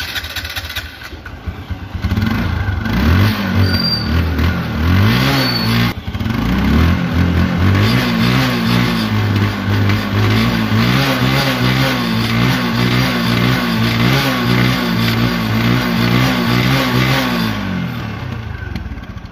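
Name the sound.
TVS Apache RTR 150cc motorcycle engine revving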